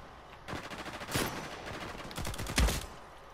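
XCR rifle fire in an Uncharted 4 multiplayer match: rapid bursts of automatic shots in two clusters, loud and close, with a sharper crack near the end.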